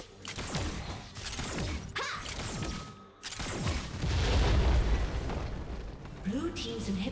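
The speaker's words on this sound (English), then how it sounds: "Blue team's inhibitor has been destroyed." Explosions and crashing impacts from a League of Legends match as an inhibitor is destroyed: a dense barrage of booms and bursts with a deep rumbling blast in the middle, loud and close, with voices speaking through it.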